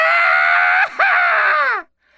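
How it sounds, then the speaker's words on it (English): A loud, horrifying human scream, long and piercing, briefly breaks off and then resumes before cutting out abruptly, in a Tennessee ghost story set in a valley. "A horrifying scream that resounded throughout the valley."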